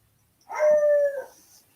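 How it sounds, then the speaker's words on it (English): A single dog lets out one brief howling yelp, clear and fairly near, in an otherwise quiet setting. "Sorry, dogs are barking."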